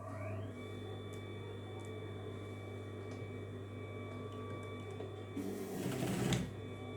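A sewing machine stitching a fabric letter onto cloth, with a steady low motor hum and a short louder burst of rapid stitching near the end.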